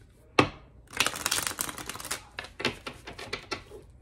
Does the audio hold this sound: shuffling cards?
yes